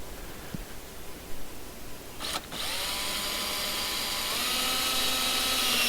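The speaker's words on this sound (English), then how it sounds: "just going to run a couple of stainless steel screws, should I say, in there, just to hold it in place" A power drill drives stainless steel screws into a greenhouse evaporative cooler build, with a brief whir, a pause, then a longer steady rising whine that continues to the end, close by.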